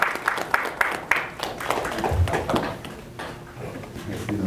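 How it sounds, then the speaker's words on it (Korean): An audience at a Gangwon governor's press meeting in LA claps in a loose, uneven patter of claps with some voices mixed in, moderately loud and close, lasting a few seconds. "박수 다시 한번 부탁드리겠습니다."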